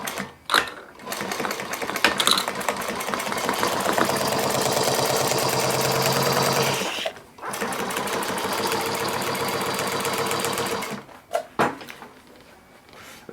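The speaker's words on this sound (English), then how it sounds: "I'm gonna sew this Velcro onto here" A sewing machine stitches Velcro onto a bag in long rapid runs of needle chatter, stopping briefly between passes. It sounds close and loud, with quiet handling at the end.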